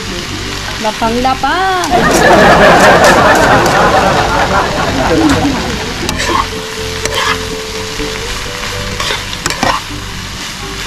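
Chopped pork for sisig hits a hot pan with a loud, close burst of frying that settles into a steady crackling sizzle with stirring clinks, while someone talks briefly over it.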